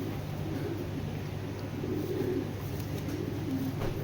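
Giribaz high-flyer pigeons of an old Pakistani breed give soft, low cooing in short murmuring phrases over a steady background hum, close by, with no voices.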